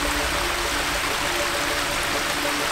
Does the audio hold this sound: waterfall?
yes